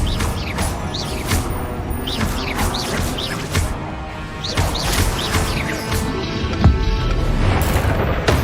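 Incendio fire spells are cast repeatedly in Hogwarts Legacy, with bursts of whooshing flame and impact crashes landing at an irregular rhythm over the game's ambience.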